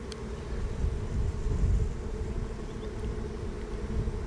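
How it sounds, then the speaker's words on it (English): Honeybees humming inside an open hive during a split inspection, a steady low buzzing drone held close and even for about four seconds with no talk. "We got bees emerging"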